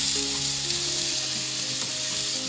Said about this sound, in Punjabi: ਹੁਣ ਇਹ ਟਮਾਟਰਾਂ ਨੂੰ ਵੀ ਆਪਾਂ ਭੁੰਨ ਲੈਣਾ ਹੈ